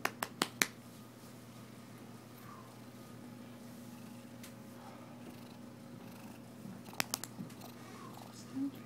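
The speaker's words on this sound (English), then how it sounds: "Can't believe he's purring the whole time he's doing it." A kitten purrs steadily and softly while nursing on himself, a low, continuous rumble close up. Faint clicks and small mouth sounds are scattered through it.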